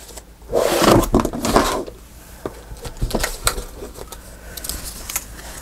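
Wooden drawers in a paper-craft workspace are slid open and shut, giving a few close, sharp knocks and rubbing scrapes, one longer sliding burst near the start followed by scattered clicks, with no talking.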